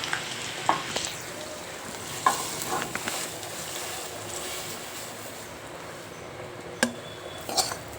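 A hot tadka with chili powder is poured into a whole masoor curry, giving a steady close sizzle broken by a few sharp clinks of a spoon and pan.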